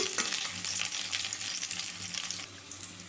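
Bitter gourd pieces shallow-frying in hot oil until lightly golden brown, a steady close sizzle and crackle running throughout with no talking.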